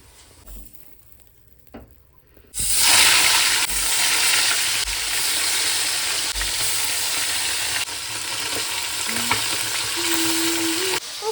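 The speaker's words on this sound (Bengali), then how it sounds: "জাস্ট এখন মাছ ভাজাটা করে ওদেরকে দিয়ে দিই" After a quiet start, a loud hissing sizzle of fish frying in oil bursts in and continues steadily, with faint clinks and stirring.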